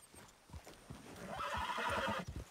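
A horse in the video game Red Dead Redemption II whinnies over rhythmic clip-clopping hooves. The hoofbeats patter along at a walking pace and the neigh swells loudly toward the end, with no voices.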